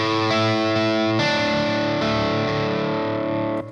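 Electric guitar with heavy distortion plays a riff, notes ringing out and sustaining together, loud and alone, fading at the end.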